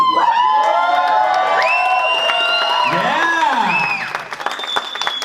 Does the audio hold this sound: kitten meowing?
no